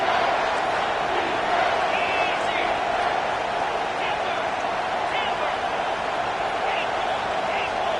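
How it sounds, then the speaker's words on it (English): Steady, dense crowd roar filling a college football video game stadium on a late third down, loud and constant for the whole stretch, with faint whoops rising above it. "3rd down, and this crowd is tearing the lid off this place."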